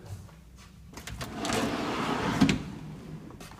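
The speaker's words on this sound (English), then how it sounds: "So this will allow me to open the drawer and pick out what I want. Close the drawer, all the way to the back." Workbench drawer sliding open and shut, a rolling scrape building to a louder rumble with a thud as it closes, fairly close.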